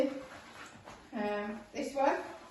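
A pet dog named Fred's companion gives a few close woofs and yips, with a voice talking around them.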